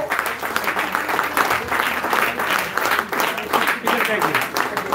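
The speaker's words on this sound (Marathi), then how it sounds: "सर्व यशवंत गुणवंत विद्यार्थ्यांचे परत एकदा आपण टाळ्यांचा गजर करून अभिनंदन करूया" An audience at a school award ceremony honouring successful students breaks into sustained, dense clapping that holds steady for several seconds, with a voice speaking over the applause.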